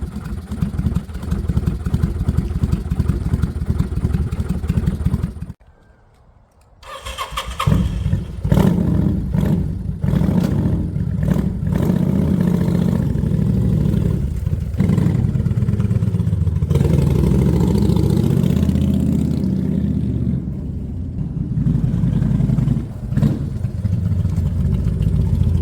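A 30-year-old Kawasaki VN800 Vulcan motorcycle engine with a worn exhaust chugs roughly at idle, cuts out briefly, then restarts and keeps running with an uneven, raspy exhaust and occasional throttle blips.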